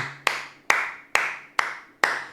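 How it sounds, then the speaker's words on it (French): One person claps their hands five times in a slow, even rhythm, each clap sharp and close with a short decaying tail, with a faint low hum under the first. "Je t'applaudis."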